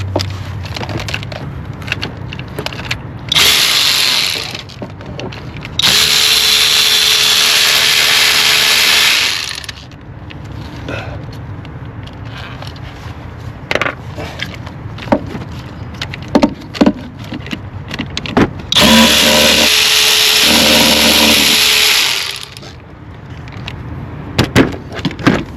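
An electric ratchet takes out bolts on the engine of a 2007 Lexus ES 350 during a spark plug and ignition coil job. Loud whirring bursts of several seconds each alternate with clanks and rattling of tools and parts.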